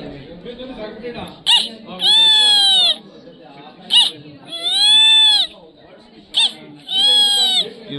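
A voice mimics the call of a white-eyed buzzard, three loud, drawn-out whistled screams, each preceded by a short sharp note, with quieter crowd murmur in the gaps.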